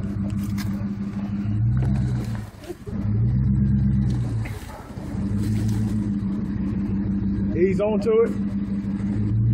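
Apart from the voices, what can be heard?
Jeep Commander engine revving while climbing over a rock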